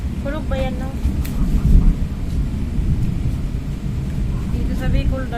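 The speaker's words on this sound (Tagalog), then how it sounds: "Kulog ba yan, no?" Thunder in the Bicol region of the Philippines during a storm, a deep continuous rumble rolling under the whole stretch with faint rain, while people speak over it.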